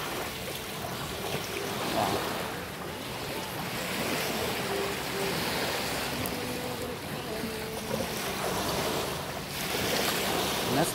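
Sea waves roll onto Fort Myers Beach in Florida, a continuous wash of surf with swells rising and falling, under steady wind noise on the microphone.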